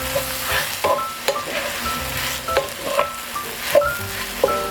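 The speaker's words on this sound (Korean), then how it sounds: "재료가 잘 어우러지도록 섞어주며 볶아줍니다" Rice cakes (tteok) with onion, seasoned with salt and pepper, are stir-fried in a pan, giving a steady sizzle under repeated close knocks and scrapes of a utensil against the pan.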